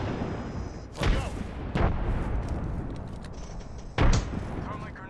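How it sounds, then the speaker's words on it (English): Frag grenade explosions in Apex Legends give several sharp booms, two close together early and another later, over a low continuous game background. "Throwing frag. Frag out."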